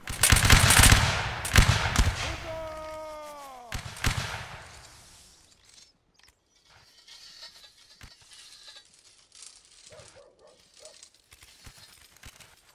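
Musket volley fire in a Napoleonic Wars line-battle video game: a burst of loud, overlapping cracks packed into the first four seconds around a shouted command, then fading into sparse, quieter scattered shots and distant noise.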